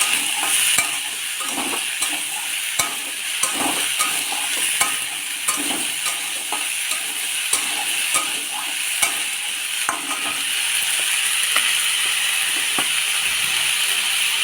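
Potato, papaya and pumpkin pieces fry in a pan with a constant sizzle, while a spoon stirs in a steady, clicking rhythm against the metal. The sound is close and clear, with no voices.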